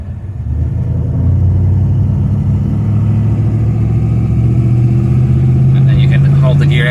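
A Holden VZ HSV E40 with a 6L80 automatic rolls off in 3rd gear, a steady low engine drone that swells slightly as it pulls away, heard from inside the cabin.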